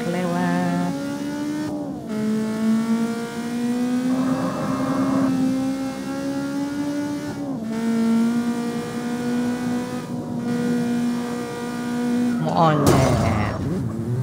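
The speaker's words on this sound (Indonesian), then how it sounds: "Ada motor lewat." Car engine drone in the CarX Street racing game, a sustained harmonic tone rising and falling through repeated gear shifts, with an abrupt burst near the end as a motorbike passes; someone talks over it.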